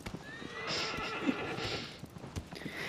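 A horse neighs and whinnies with clip-clopping hooves in the PS5 remake of Shadow of the Colossus, a loud whinny over steady hoofbeats and game ambience.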